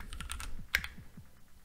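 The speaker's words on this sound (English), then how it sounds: "I can also type, by the way, in the keyboard, maybe faster" Rapid typing on a computer keyboard, a steady run of light close clicks with one sharper keystroke standing out, no voices.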